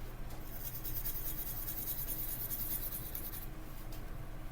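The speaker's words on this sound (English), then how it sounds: "you're going to erase 3 more lines" A pencil eraser rubs out drawn lines on paper, a quiet close scratchy swishing repeated in quick back-and-forth strokes, then briefly pausing near the end.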